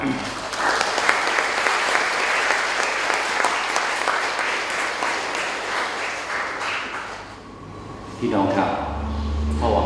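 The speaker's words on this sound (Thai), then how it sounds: "ขอพวกเราได้ปรบมือต้อนรับท่านอย่างเป็นทางการครับ" An audience applauds to formally welcome a guest at a Thai Catholic gathering, a dense, steady clapping that fills most of the stretch before thinning out, with a low hum and a voice returning near the end.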